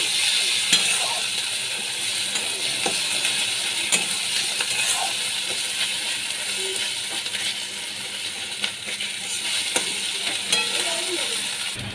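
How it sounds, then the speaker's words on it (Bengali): Ginger garlic paste sautéed in a pan for a katla fish curry, giving a steady close sizzle with frequent scraping and clinking from stirring throughout, no talking. "আদা রসুন বাটা দিয়ে আমি ভালো করে কষিয়ে দিচ্ছি"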